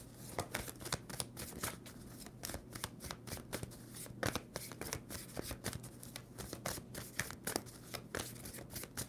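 A tarot deck being shuffled by hand during a love reading, a fast run of crisp, riffling card flicks with brief pauses between shuffles, close and fairly quiet with no talking.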